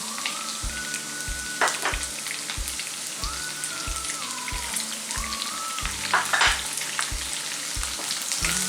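Garlic, green chillies and ginger sautéing in oil in a pan for beef pickle, a steady close sizzle with rhythmic stirring clicks and scrapes throughout, no talking.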